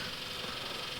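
A Kubota tractor's engine runs with the ignition on, giving a steady, close mechanical drone and hum that stays even and unbroken for the whole second.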